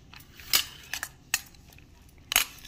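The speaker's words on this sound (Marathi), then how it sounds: "हे भाज्या मिक्स करून घेऊया" Chopped onion and medium tomato get mixed in a bowl with a utensil, giving a few sharp clinks and scrapes spaced irregularly against a quiet background, close and fairly soft.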